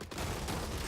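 A machine gun bot fires in the robot strategy game Gladiabots, a dense continuous rattle of rapid shots that fills the whole short moment at moderate loudness, with no voice over it.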